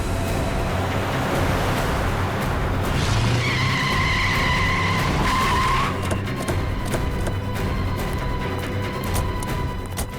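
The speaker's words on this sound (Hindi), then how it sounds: "गाड़ी भगा भगा के वो जाएगी कहाँ?" A car driven fast through a police chase scene in a Hindi crime drama, its engine roaring steadily while tires squeal and skid loudly for several seconds in the middle, then settle back into a rushing, noisy drive.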